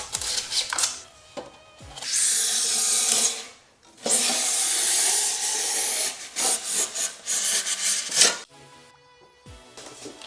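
Foam board being cut into small pieces for bathroom soundproofing, heard as close, scratchy rasping strokes in bursts separated by short pauses.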